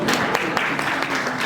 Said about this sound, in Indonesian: Ya, kita kasih aplaus untuk Ibu Mira.